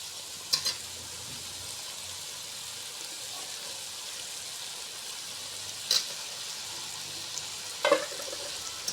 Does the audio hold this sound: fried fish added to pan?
yes